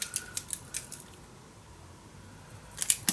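Scissors snipping paper for a handmade folio craft: a few faint, crisp cuts near the start and another short cluster at the end, with quiet room tone in between.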